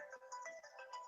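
A phone ringtone plays alone, a bright repeating electronic melody of quick notes, fairly faint and steady for about a second.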